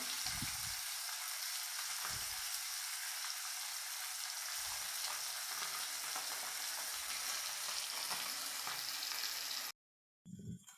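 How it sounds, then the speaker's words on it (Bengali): Pieces of bata fish deep-frying until crisp in hot oil in a home kitchen sizzle steadily and loudly, then the sound cuts off briefly near the end before resuming. "কড়া করে ভেজে নেব।"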